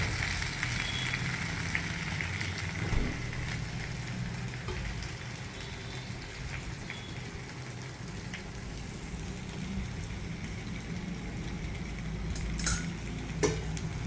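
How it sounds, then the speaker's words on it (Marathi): Spiced potato slices cooking in a pan over a medium flame, a close, continuous soft sizzle with occasional light clicks and scrapes of stirring, louder taps near the end, with no talking. "अशा रीतीने हलवून घ्यायचं।"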